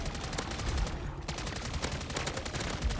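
Sustained rapid automatic gunfire from MW3 Zombies, with a dense stream of sharp shots and a brief lull just past the one-second mark before firing resumes, loud and close throughout.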